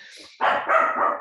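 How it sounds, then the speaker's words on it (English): Dogs barking indoors behind a speaker giving an online talk, a couple of loud close barks with voice overlapping. "I apologize for my dogs barking in the background."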